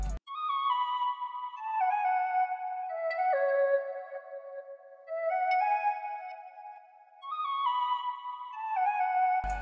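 A melodic synth line on a beat, washed in a vintage reverb ambience preset at under half mix, smooth sustained notes stepping up and down alone.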